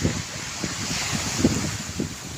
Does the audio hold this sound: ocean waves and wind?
yes